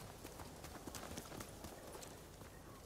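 Rhythmic clip-clop of horse hooves trotting steadily in the video game Ghost of Tsushima, faint and somewhat distant, with no voices.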